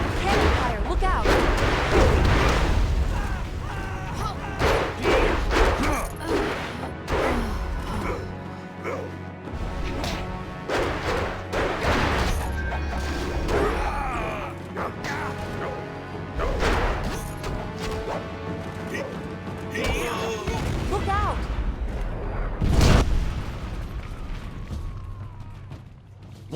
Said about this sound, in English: Cannon fire, look out!